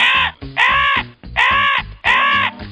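A crow cawing loudly and close, three harsh drawn-out caws in an even rhythm with short pauses between.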